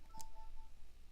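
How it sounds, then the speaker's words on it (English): A Nintendo DS gives a single short electronic chime as the Layton game is selected, heard faintly once near the start over a low steady hum. "That's me selecting the Layton game."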